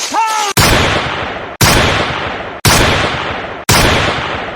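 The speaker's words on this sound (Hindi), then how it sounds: "गोली चलाओ, नहीं तो कोई नहीं बचेगा।" Four loud gunshots ring out about a second apart, each with a sharp crack and decaying echo, after a short shout.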